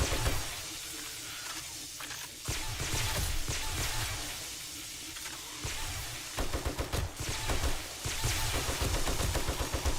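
AK rifle fire in the survival video game 7 Days to Die rattles out in loud bursts of rapid shots, broken by short pauses, with no talking over it.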